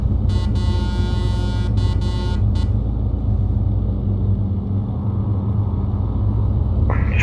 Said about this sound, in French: On va donner un petit coup de klaxon.